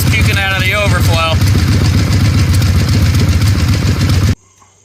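A Harley-Davidson Ironhead Sportster engine runs loud and steady for about four seconds after being restarted, with a brief voice over the start, then cuts off abruptly.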